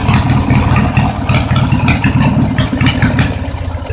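Grandpa's old tractor engine runs steadily close by, a throbbing mid-pitched idle with a continuous rumble and no voices over it.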